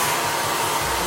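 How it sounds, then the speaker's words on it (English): A hair dryer blows steadily on hair being shaped with a brush, a loud close continuous whoosh with no voices. "also placing the dryer in the right direction"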